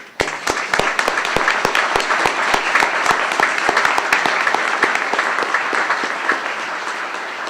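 Audience applause at a judicial investiture ceremony, sustained dense clapping with sharp individual claps standing out, loud and steady throughout with no talking over it.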